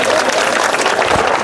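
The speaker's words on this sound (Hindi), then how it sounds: "जोरदार तालियां उनके लिए" A church congregation claps loudly for its leaders, a dense, close burst of applause with some voices mixed in.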